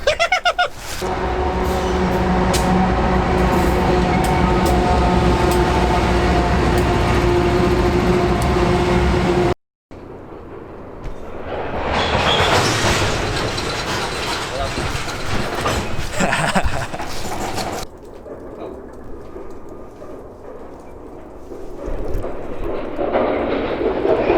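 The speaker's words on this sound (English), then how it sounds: "And there's a train coming. Oh, train coming." A train thunders past close by with a loud, heavy rumble, then drops to a softer hiss as it moves away.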